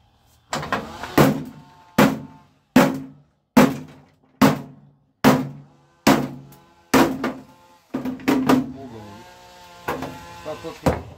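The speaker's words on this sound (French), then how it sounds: "On va essayer au marteau." A hammer strikes a pellet stove part being broken apart for scrap metal, about a dozen sharp, loud, evenly spaced metallic blows, each ringing briefly before the next.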